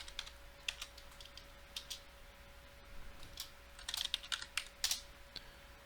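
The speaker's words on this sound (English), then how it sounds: "and then just type." Keystrokes on a computer keyboard while running PowerShell scripts from the command line, a quiet, irregular patter of clicks with a few faster bursts near the end, over a faint steady electrical hum.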